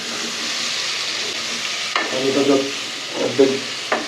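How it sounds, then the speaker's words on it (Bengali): Potatoes fry with spices in a pan, a steady close sizzle overlaid with scraping stirring strokes and a few sharp clicks of the spoon against the pan. "আলুগুলো একদম মশলার সাথে ভাজা ভাজা হয়ে গেছে"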